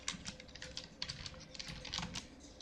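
Quick, light keystrokes on a computer keyboard, a close, quiet patter of clicks in an irregular rhythm with no voice over it.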